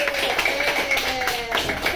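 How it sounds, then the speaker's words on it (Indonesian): A class of students clapping their hands together in a classroom, a brief, dense burst of claps close by. "Tepuk tangan untuk diri kita sendiri."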